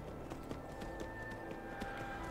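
Horse hooves in the Skyrim video game clop in a quick, faint, running rhythm against a steady low game background, with no talking.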